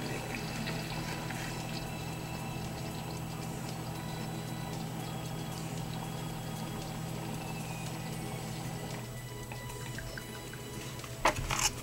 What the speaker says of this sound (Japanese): で、これでお湯を入れ、